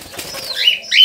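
A cockatiel flaps its wings in flight inside an aviary, giving a brief close flutter that rises in loudness toward the end, with no talking.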